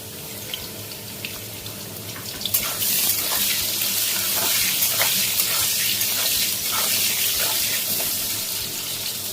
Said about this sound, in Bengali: কেটে রাখা আলুগুলো ভেজে নেব